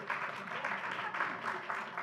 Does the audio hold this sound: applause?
yes